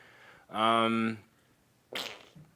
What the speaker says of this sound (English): just do that fart noise